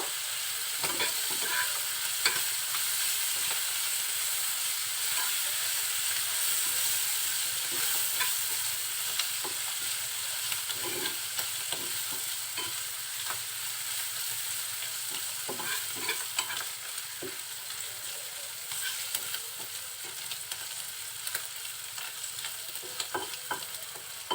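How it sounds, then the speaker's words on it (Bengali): Kanchan greens fry with shrimp, onion and chili with a steady hiss in a pan while a spoon stirs and scrapes at intervals, no talking. "সবগুলো খুব ভালোভাবে নাড়াচাড়া করে দিব"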